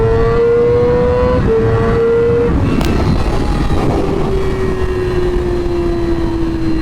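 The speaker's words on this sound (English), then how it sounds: "I'll give this guy a good flyby here." A Yamaha FZ1 or R6 sport motorcycle makes a flyby, its steady engine drone holding high, dipping as it shifts, then falling in pitch as it passes and pulls away, loud throughout with no talking.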